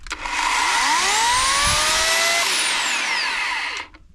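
A chainsaw revs loudly and steadily at close range, cutting firewood for several seconds before cutting off abruptly.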